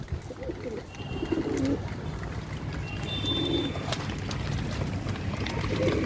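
Pigeons feeding on a surki grain mix give soft, low repeated coos at intervals, close by over a constant background hum.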